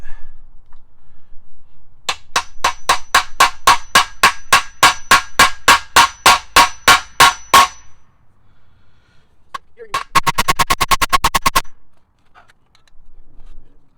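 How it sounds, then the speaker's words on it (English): Sharp metallic hammer strikes on a Nissan 180SX rear subframe bushing ring out in a steady series of about twenty blows, then a pause and a faster rapid burst, loud and close. "Just know it's going to be a lot of banging and a lot of noise"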